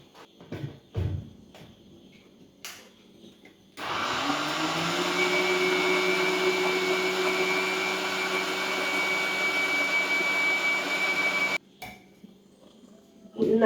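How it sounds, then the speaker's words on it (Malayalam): An electric grinder grinding soaked black gram (urad dal) in a home kitchen drones steadily for about eight seconds at close range, with clinks and handling sounds before and after. "ഉഴുന്ന് അരച്ചെടുത്ത് കേട്ടോ."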